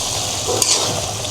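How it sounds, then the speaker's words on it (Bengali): Vegetables, including ridge gourd, sizzle steadily in a pan while being sautéed, a continuous close frying hiss with a couple of faint utensil clicks. "এখন হলো সবজিটা কষানো হচ্ছে"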